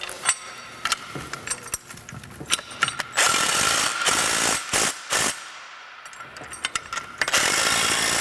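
Washer and self-locking nylock nut being tightened down onto a TowTector towing mud flap bracket, heard as a close series of sharp metallic clicks and ratcheting bursts with brief pauses between them, no talking.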